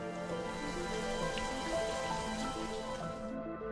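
Heavy rain pours down in a dense, steady hiss of drops hitting surfaces, constant and unbroken, with a faint tonal hum underneath and the sound cutting off abruptly at the end.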